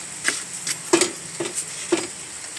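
A plastic container lid is pressed back into place, making a few sharp, close clicks and taps spaced irregularly over a faint background hiss.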